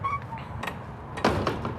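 Doors on a 2024 Cimarron Lonestar stock combo trailer swing shut, giving a couple of thudding metallic clunks followed by a louder latching slam, close by with no talk.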